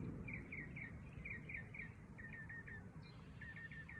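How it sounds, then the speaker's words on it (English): Birds sing outdoors in bursts of short, bright, repeated chirps, moderately faint over a steady open-air background hiss. "Y'all hear the birds going off."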